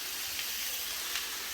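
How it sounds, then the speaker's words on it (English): Chicken and cabbage sizzle in a pan over low heat, a soft steady hiss of frying with faint crackles and no talking. "It's on low, but you can hear it sizzle."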